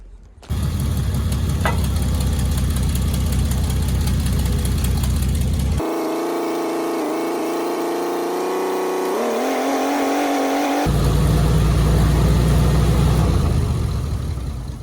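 Forklift engine running loud and steady while lifting and flexing a Suzuki Jimny, cutting to a higher droning tone with a pitch shift midway before returning to a deeper rumble.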